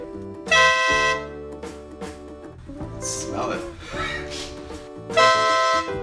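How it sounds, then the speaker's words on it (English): Two loud, sustained blasts of a small air horn, one at the start and one near the end, with someone speaking briefly in between. "So at least I know the horn I got is good."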